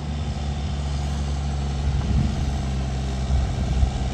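A YTO 1604 tractor pulling a 24-disc harrow on trial, giving a steady low engine drone with rumbling, close and continuous throughout.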